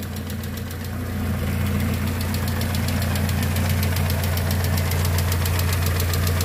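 Car engine idles with a rapid, steady clatter from hydraulic valve lifters, the ticking growing louder after a second and continuing over a constant low hum, close up.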